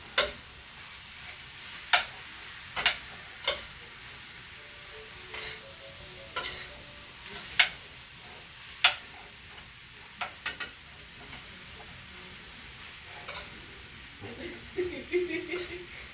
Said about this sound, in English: chilies, and rotel tomatoes into my ground meat. And I'm gonna mix that up.